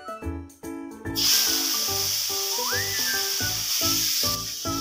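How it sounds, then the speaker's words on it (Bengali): Bay leaf, cumin, black pepper and whole garam masala hit hot white oil in a kadai, sending up a sudden loud, steady sizzling hiss that starts just as background music plays on. "এবার কড়াইতে আর একটু সাদা তেল দিয়ে তাতে দিয়ে দিলাম তেজপাতা, জিরে, গোলমরিচ ও আস্ত গরম মশলা।"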